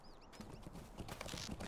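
Horse hooves from the Lord of the Rings Online video game clop in a quick, steady gallop rhythm, close and moderately loud over a busy background of game ambience.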